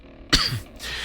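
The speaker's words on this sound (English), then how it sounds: "so sorry for the coughing in the mic" A single sharp cough right into a microphone, close and loud, followed by a brief breathy throat sound, with no talking.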